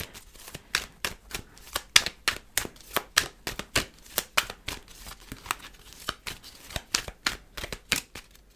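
Tarot cards are handled and shuffled close by, making a steady series of crisp, papery snaps and flicks at an even pace, with no voice over them.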